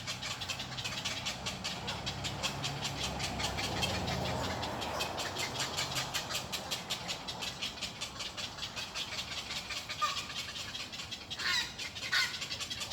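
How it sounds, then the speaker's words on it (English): Night herons of two kinds give harsh, crow-like squawks and croaks against a steady, dense outdoor background, with louder calls breaking through near the end. "They're night herons, but I think there's two breeds."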